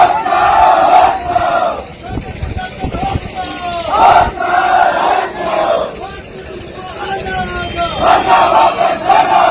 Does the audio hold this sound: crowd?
yes